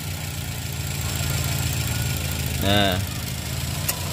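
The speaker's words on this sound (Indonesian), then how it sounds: "Untuk mesin halus ya." A 2012 Toyota Avanza G with a 1.3-litre engine and manual gearbox idles smoothly and steadily at close range, with a brief voice cutting in near the end.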